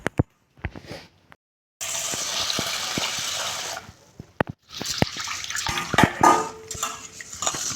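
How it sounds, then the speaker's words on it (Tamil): Running water rinses half a kilo of basmati rice in a kitchen, a loud steady splashing gush that stops and starts, broken by sharp clinks and knocks of a vessel and the grains being handled. "இப்போ நம்ம இதை கழுவிட்டு ஒரு 20 நிமிஷம் ஊற வச்சுக்கலாம்."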